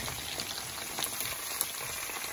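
Chicken frying in oil in a kadai, a steady dense sizzle and crackle holding at an even level throughout, close and alone with no talk.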